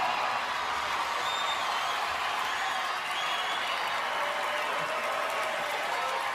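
A large crowd cheers and applauds in a dense, sustained roar of clapping and shouts at steady loudness.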